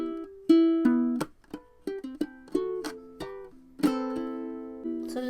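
Close, clean ukulele fingerstyle passage from a song, plucked melody notes mixed with muted percussive chucks and thumps, uneven rhythm building to a fuller ringing strum near the end, no voices.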